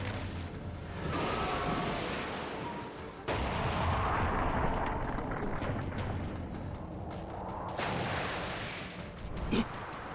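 A flashbang jutsu blast in the Naruto Storm 3 video game, a loud, broad roaring burst that resets partway through and stays dense before fading, with a brief crack near the end.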